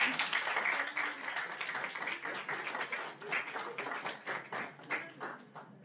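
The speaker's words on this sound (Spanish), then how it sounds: "Un fuerte aplauso para la doctora." An audience at a Spanish-language academic presentation of a social sciences and humanities journal claps for the invited doctor, a sustained round of moderately loud applause that gradually thins toward the end.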